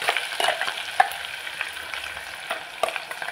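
Ground masala paste frying in hot oil for a spicy misal, a soft sizzle broken by scattered sharp crackles and spoon-stirring clicks, close and alone.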